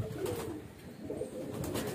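Young highflyer pigeons cooing in a loft, a soft, steady low murmur of several birds running throughout at a moderate, close distance.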